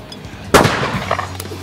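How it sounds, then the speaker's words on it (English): A Beretta shotgun fires once at clay shooting, a single loud, sharp blast with a short ringing decay and a faint metallic clink afterward. "Okay, this is a gun we're going to use. It's a bog standard Beretta."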